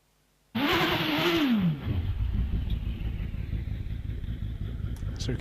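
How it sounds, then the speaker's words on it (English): A Force TA hillclimb race car at a British hillclimb final at Loton Park starts up loudly and revs with a rising, falling engine note, then settles into a steady close rumble as it rolls toward the start line. "So we can hear the car coming to the line."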